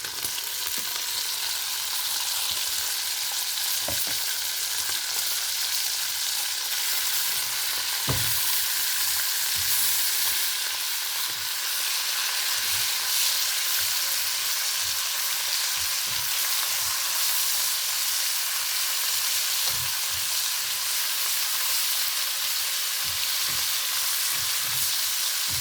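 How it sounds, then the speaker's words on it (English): Ground beef and bacon frying together in a pan give a steady, loud sizzle and crackle with occasional scraping stirs and small clicks, close up and without talking. "So while the bacon is cooking, I'm going to add in my ground beef."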